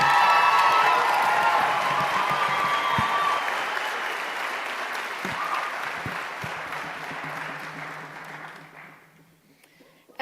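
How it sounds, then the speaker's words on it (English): Loud applause from a live audience at a story slam, with dense clapping and some cheers that hold steady, then gradually fade away over about ten seconds until near silence. "Let's hear it, you guys, for Beth Bradley"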